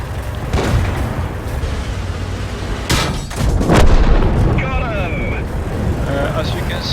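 Tank cannon fire in the World of Tanks video game, with heavy booming shots and rumbling blasts over continuous engine and battle noise, a loud burst near the middle followed by ongoing explosive rumble and a whistling sweep.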